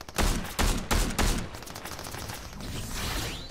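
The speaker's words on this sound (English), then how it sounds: "There is people shooting." Gunfire in Fortnite: several heavy, loud shots in an irregular volley during the first second and a half, followed by quieter continuous battle noise with more distant shooting.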